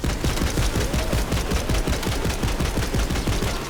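Rapid, continuous automatic gunfire in Tiny Tina's Wonderlands, dense and loud with a fast, even rhythm of shots blending into a constant roar throughout.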